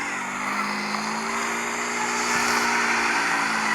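A car drifting in the CarX Street racing game, a sustained high engine whine with a rising rev and a layer of tire squeal, steady and loud with no talk over it.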